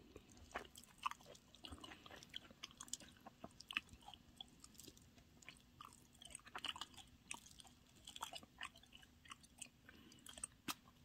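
Close, steady chewing of tteokbokki, with soft wet mastication and small bites repeating through the meal, moderately quiet, with no talk over it.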